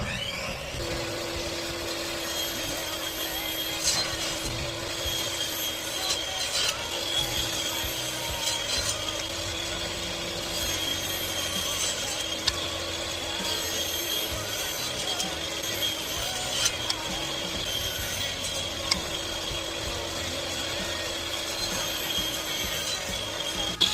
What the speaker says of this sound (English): Only thing left to do now is cut them to the right length, which is 5 inches.